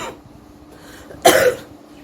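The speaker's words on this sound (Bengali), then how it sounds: "আমার খুব শরীরটা খারাপ, খুব কাশি হয়েছে" A single harsh, close cough from an ill person bursts out after a near-silent pause, brief and loud against a quiet background.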